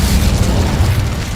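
A fire spell cast in Hogwarts Legacy bursts with a loud, continuous booming roar, heavy low rumble sustained throughout with no talking.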